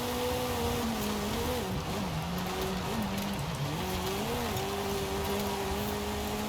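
A car's engine hums steadily as it is driven, the pitch rising and dipping with throttle changes over continuous road and tire noise, fairly close and without talk.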